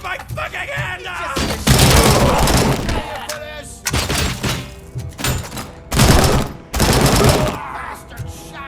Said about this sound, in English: Bastard shot me! I've been hit!